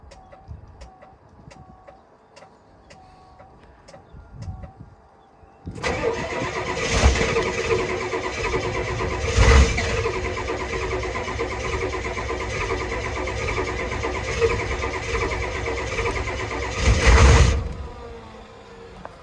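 Diesel engine on a cold morning with glow plugs: a few faint clicks, then cranking that catches and starts into a loud, rough running roar with revving surges, close by, with a rooster crowing faintly.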